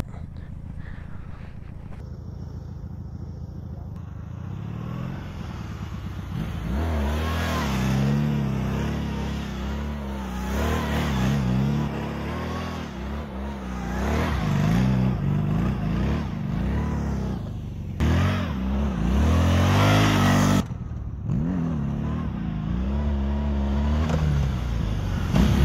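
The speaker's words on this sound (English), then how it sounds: "we would also bring the Honda Magna out here to do a donut or two" A Honda Magna 750 muscle cruiser motorcycle engine revs up and down in repeated bursts while doing donuts, loud and close, with rising and falling throttle swells over a steady low rumble.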